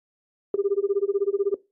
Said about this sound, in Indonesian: Ada yang telepon siapa ya?